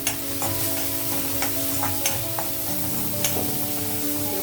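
Onions and vegetables frying with turmeric and salt in a pan, giving a steady close sizzle broken by light stirring taps.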